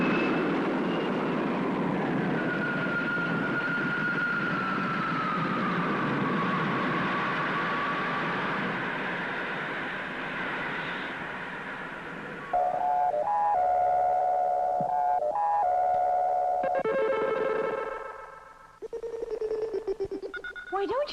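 Spaceship takeoff effect from the 1962 science-fiction series Space Patrol: a long wavering electronic whine over a rumbling roar, then a stretch of stepped, beeping electronic tones and a final surge. A voice speaks briefly near the start.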